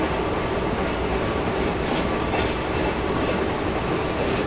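Vande Bharat Express train running in a Train Simulator game on PC, a steady, loud broadband rumble of rolling wheels and carriage noise with faint rhythmic clatter, continuous throughout with no talking.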